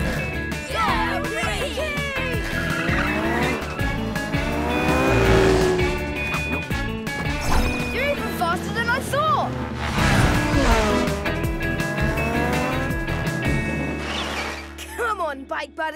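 Cartoon motorcycle race with revving engines, whining passes and squealing, skidding tires throughout, loud and busy, with voices talking and shouting over the action.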